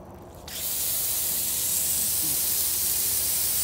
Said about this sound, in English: I need to get me a new water spray.